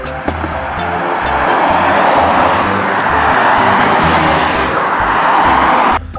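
A toy police escort car plays a loud driving sound, a dense steady engine-like roar that holds for several seconds close by, then cuts off abruptly.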